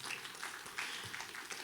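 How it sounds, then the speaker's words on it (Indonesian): A church congregation at a GBI Lembang service applauds, a faint, dense patter of clapping hands that carries on steadily at a distance. "Berikan tepuk tangan bagi Tuhan."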